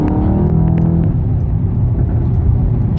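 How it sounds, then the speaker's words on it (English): A car's exhaust at about half throttle, loud and close, with a steady low rumbling burble and scattered crackles and pops over the top, continuous throughout. "You can hear the cracks and the pops as well."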